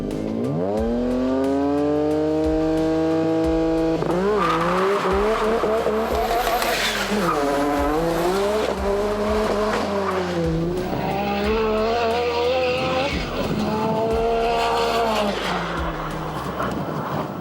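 A tuned Nissan Skyline R33 roars down a drag strip, its engine climbing through several rising gear pulls with brief drops at each shift, loud and close, with tire squeal mixed in.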